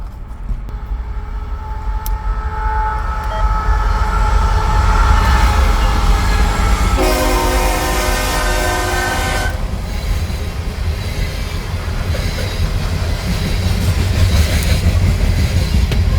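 A train rolls past close by at Rockholds, Kentucky, a loud steady rumble of cars with a horn sounding in the middle stretch, continuous throughout with no talk.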